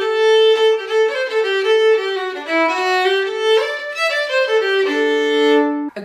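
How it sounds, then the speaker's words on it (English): Solo fiddle playing the tune Hardyman the Fiddler, close and clear with bright bowed notes moving in a lively melodic line, loud and continuous with no talking. "So with our tune, Hardyman the Fiddler, which sounds like this."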